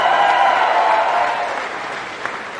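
Crowd at a political rally applauding and cheering, a dense wash of clapping and voices that gradually eases off over a couple of seconds.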